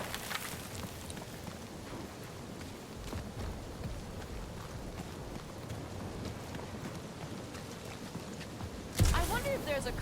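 Rain in the action game Marvel's Guardians of the Galaxy, a constant wash of falling drops under game dialogue, with a louder thud near the end.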